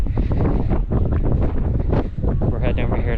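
Strong wind buffets the microphone on the deck of the Disney Fantasy cruise ship, a loud continuous roaring rumble throughout.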